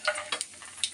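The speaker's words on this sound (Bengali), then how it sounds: "এই যে ফোড়নে কালো জিরে দিয়ে দিলাম" Nigella seeds crackling in hot oil for tempering, a brief close burst of sizzle with a few sharp pops.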